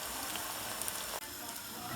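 Aubergine slices frying in olive oil in a pan, a dense, steady sizzle close up that runs without a break, with one brief dip near the middle.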